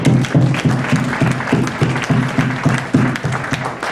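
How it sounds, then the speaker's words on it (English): A congregation at a youth ministry gathering gives a round of applause, loud and close, with rhythmic pulses suggesting some people clapping in unison. "Brother, let's give Brother Vincent a round of applause."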